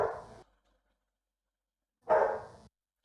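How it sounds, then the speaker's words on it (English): A dog barks twice, each a short, clear bark heard nearby, separated by about two seconds of silence. "I know we have the dog barking."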